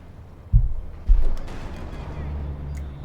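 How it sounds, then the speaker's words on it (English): In Company of Heroes 2, a StuG assault gun fires twice in quick succession at a T-70 tank, two close, heavy booms followed by a rumbling tail as a voice talks over the battle. "T-7 taking a nice hit from the Stug"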